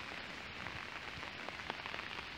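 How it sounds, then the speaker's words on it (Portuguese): Rain falls steadily at an outdoor recreation area with kiosks, a soft, even patter with no voices. "tá chovendo"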